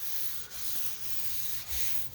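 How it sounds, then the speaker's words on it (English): Bondo body filler being sanded by hand along a car body line, a continuous close abrasive rasp with slight back-and-forth swells and no talk. "that right there is how you spread Bondo and sand, getting ready for paint"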